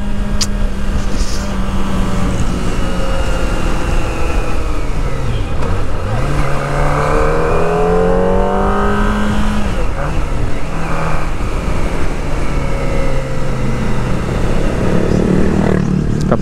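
Kawasaki ZX25R motorcycle engine revving hard to high RPM while riding, a loud, sustained whine that rises and falls through gear changes over steady road and wind roar, with a rider talking over it.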